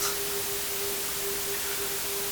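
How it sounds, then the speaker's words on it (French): Steady broadband white noise played into a room, a constant hiss at even loudness with a faint steady tone underneath, no other sounds. "Si je diffuse donc un bruit blanc dans cet espace"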